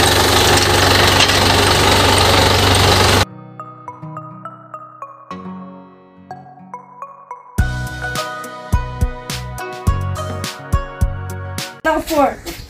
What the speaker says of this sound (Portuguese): Se vem a dona Damares no trator